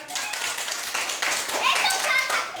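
Children in a classroom multiplication-table tournament clap for a finalist, a scattered patter of small hands mixed with kids' voices and chatter.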